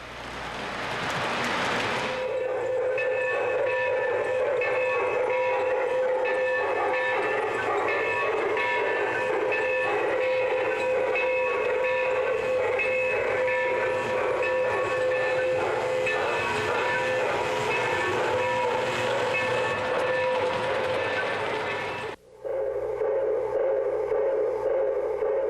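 An MTH Railking O-gauge model train runs steadily and loudly for most of the stretch, with dense clattering and a continuous mechanical hum, then cuts off abruptly near the end before a quieter layer resumes.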